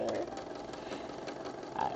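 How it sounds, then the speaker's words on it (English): An unoiled sewing machine running rough with a continuous mechanical whirr and rattle, close and steady, with a voice faintly underneath. "But when I go to my machine is sounding kind of rough."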